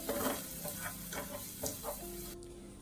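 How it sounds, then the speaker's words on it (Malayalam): Crushed shallots sauté in hot coconut oil with a soft sizzle under rhythmic spatula strokes, several regular stirring swishes close by before the sizzle drops off abruptly. "ചൂടായ വെളിച്ചെണ്ണയിലേക്ക് ചെറിയുള്ളി ചതച്ചതിടുന്നുണ്ട്"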